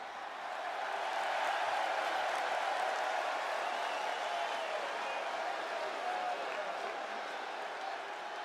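A wrestling crowd applauds and cheers as a wrestler makes his way to the ring, a dense, steady wash of clapping and crowd noise that holds throughout.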